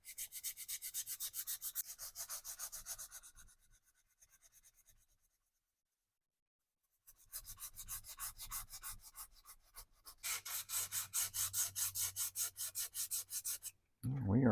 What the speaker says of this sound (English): let's see how sandpaper does on this.